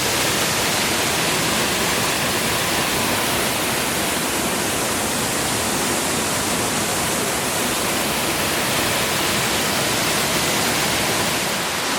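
The upper tier of Gogandara Falls on Queensland's Coomera Circuit pours in full flow, a loud, unbroken broadband roar of rushing water that holds steady from start to end with no voices.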